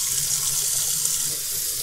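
Warm water runs steadily from a tap to soak a dense orange foam polishing pad, a constant close hiss and splash with no talking.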